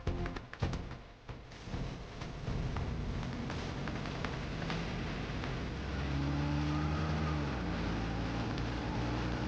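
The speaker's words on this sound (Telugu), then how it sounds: "కార్ వెళ్ళిపోతుంది బాబు" A car moves off and pulls away, its engine note rising and holding steady, with tyre and road noise under a continuous motor drone and no voices.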